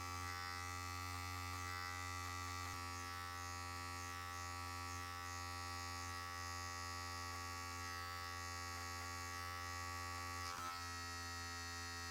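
Electric hair clipper trimming only the tips of afro hair during a mid fade, a steady close buzzing hum that holds throughout with a brief change near the end.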